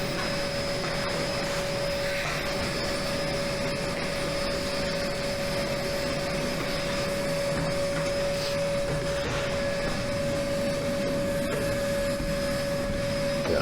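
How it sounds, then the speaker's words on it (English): A vacuum cleaner runs continuously at close range inside a laundromat, holding a steady whine with a strong constant tone and airy rush as it sucks up debris. "You go try to suck up too much stuff at once, it'll clog up the vacuum"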